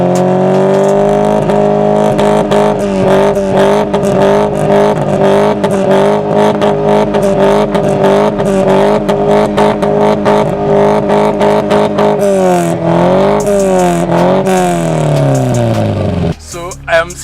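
Exhaust of a 1998 Subaru Impreza, recorded up close and loud. A steady, rumbling engine drone holds for about twelve seconds, then the revs rise and fall in a few blips before cutting off. A voice is partly audible over it.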